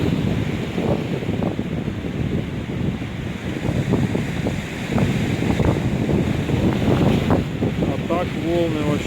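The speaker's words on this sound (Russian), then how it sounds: "А так волны вообще прекрасные." Stormy sea waves crash along the Yalta embankment in March under strong wind that buffets the microphone, a loud, rumbling surge with recurring wave swells and a few brief voices near the end.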